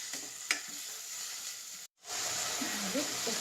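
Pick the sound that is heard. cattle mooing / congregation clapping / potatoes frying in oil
potatoes frying in oil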